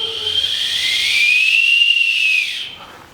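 A turbo whistle blown into by mouth gives a loud, steady high-pitched whistle with airy hiss, holding for about two and a half seconds before cutting off.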